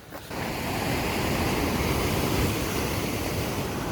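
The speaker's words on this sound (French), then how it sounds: "Là les vagues." Ocean waves along the Sea of Japan coast on a foggy day, a steady broadband wash of surf rolling in continuously, fairly loud and close with some wind noise over the microphone.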